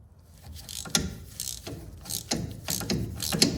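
A 13 mm ratchet works a bolt on the shifter linkage of a VW Mk1, giving a close series of sharp metallic clicks and short ratcheting bursts in uneven rhythm, with no voice over it.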